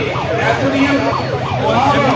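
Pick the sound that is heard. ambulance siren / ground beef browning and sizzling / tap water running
ambulance siren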